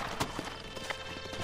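Horse hooves clip-clop steadily at a walking pace in the Red Dead Redemption video game, close and fairly soft, with a faint whinny-like tone and no talking.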